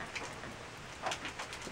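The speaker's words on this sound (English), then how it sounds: "It's raining." Rain falls steadily on a trail shelter along the Finger Lakes Trail, a soft, even patter with a few slightly louder drops, heard close and alone without talk.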